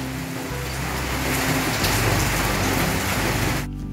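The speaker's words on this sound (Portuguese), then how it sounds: "Olha que chuva maravilhosa." Calm rain falls steadily outside a home, a dense, even patter on surfaces that holds without a break and cuts off abruptly at the very end. No one speaks.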